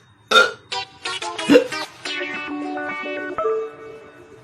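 Several comic hiccup-like vocal bursts, voiced and strongly processed with echo and chorus effects, sound loud and close in quick succession, then trail into a longer warbling tail.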